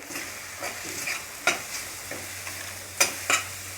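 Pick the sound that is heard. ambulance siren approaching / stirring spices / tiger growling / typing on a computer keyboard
stirring spices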